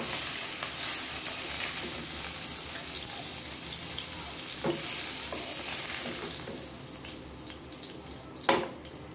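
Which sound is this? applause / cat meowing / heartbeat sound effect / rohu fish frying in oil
rohu fish frying in oil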